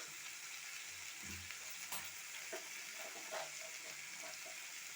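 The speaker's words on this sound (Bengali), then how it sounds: "এইগুলো সব দিয়ে আবার মশলাটা ভালো করে আমি কষিয়ে নেব" Spice masala with green chillies being sautéed in a pan for egg paneer, a steady broadband sizzle with intermittent scraping stir strokes and soft clinks, close and moderately loud, no talking.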